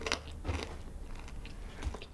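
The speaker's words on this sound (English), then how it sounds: "I can hear the crunching." Quiet crisp crunches as someone bites into and chews a hamburger, a few soft crackling bites spread across a couple of seconds with no talking.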